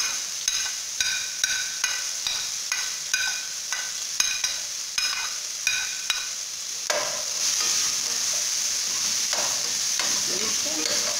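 Chopped onion and leek frying in a pan for a mocotó broth, with a steady sizzle throughout and a run of regular spoon-stirring clacks in the first half before the frying settles into continuous hiss.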